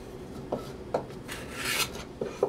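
A card scraper rasps along the corners of wood stock in a few short, fairly quiet scraping strokes with brief gaps between them, no talking.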